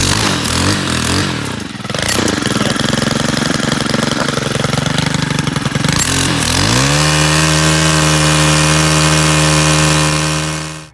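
Small Stihl lawn equipment engine running loud and close, sputtering and surging unevenly before settling into a steady high revving drone, then cutting out abruptly at the end.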